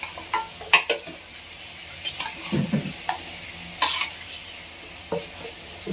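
Chicken pieces with turmeric and rock salt sizzle softly in their own water in a pan for a green masala curry, while a spoon stirs and clinks against the metal; a voice briefly speaks.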